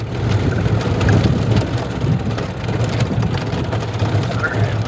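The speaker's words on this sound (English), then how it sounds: "let's take this for a little golf cart ride" A golf cart drives along with a steady low motor hum and broadband road and wind rumble, continuous and fairly loud, with faint rattles over it.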